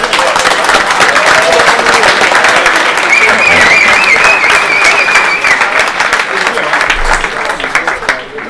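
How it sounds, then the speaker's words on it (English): Loud, sustained crowd applause greets the two finalists at an X-Wing tabletop game tournament final in Bologna, steady massed clapping with a whistle cutting through midway, easing slightly toward the end. "Give them a round of applause, please, guys"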